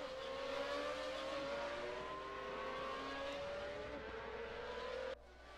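Pagani Zonda race car engines in a racing video game, a steady high-revving engine tone that gradually shifts in pitch, loud and continuous, before cutting off abruptly near the end.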